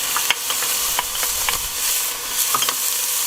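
Bacon sizzles in a pan with a steady soft hiss, punctuated by a few sharp scraping clicks as it is stirred.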